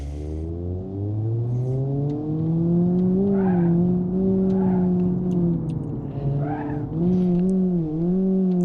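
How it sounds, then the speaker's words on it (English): A Hirochi Sunburst 1.8 four-cylinder engine in BeamNG.drive holds a loud, steady scream near redline, droning continuously with slight pitch dips and rises throughout. "the engine is just sitting at red line screaming, droning on"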